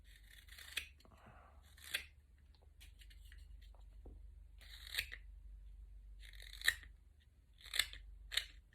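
A wooden decoy head being hand-trimmed to a marked line, giving a series of about seven short, crisp cutting snips at irregular intervals, close and fairly quiet over a low steady hum, with no talking.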